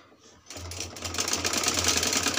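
Sewing machine stitches fabric for a trouser hem, starting after a brief quiet moment and running as a fast, steady mechanical chatter with a low motor hum, close and moderately loud.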